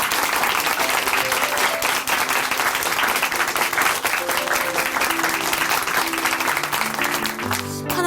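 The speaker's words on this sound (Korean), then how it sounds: "박수로 응원해 드리겠습니다" A studio audience at a Christian testimony TV program claps in sustained, even applause, loud and dense, while a sustained musical tone swells in near the end.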